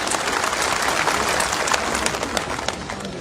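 Audience at a Congress rally clapping for Lalji Desai: dense, sustained applause from a large crowd, loud and continuous with scattered sharper claps throughout.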